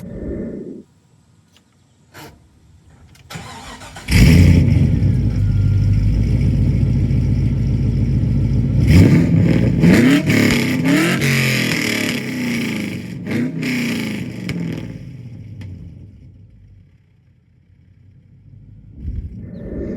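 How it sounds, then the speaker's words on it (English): A 2004 Pontiac GTO fitted with blast pipes revs loudly close by, its engine surging in repeated bursts and settling between them over about fifteen seconds, from a quiet idle to a final quieter tail. "That is blast pipes on my GTO."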